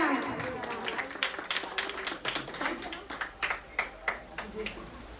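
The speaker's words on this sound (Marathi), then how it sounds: "त्यांच्यासाठी जोरदार टाळ्या" Applause greeting an arriving artist at a live stage event: a crowd claps in a brisk, fairly even rhythm at moderate distance, with voices talking over it.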